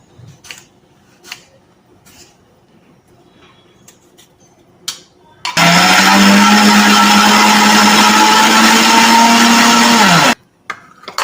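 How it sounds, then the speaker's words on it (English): A kitchen mixer grinder pureeing chopped tomato into paste: after a few quiet taps and clicks, a loud, steady high-pitched motor whine runs for about five seconds, then cuts off abruptly. "Cut this tomato and add to the mixer grinder."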